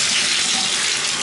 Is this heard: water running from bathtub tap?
yes